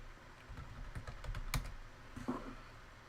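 Someone types on a computer keyboard in a quiet room. There is a short, close run of light keystrokes with one sharper clack near the middle, and no voice.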